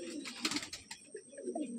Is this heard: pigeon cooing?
yes